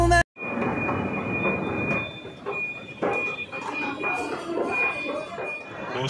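A Delhi Metro train rumbles past close by near Peeragarhi station, wheels grinding and squealing on the rails, with a steady high whine running over the noise.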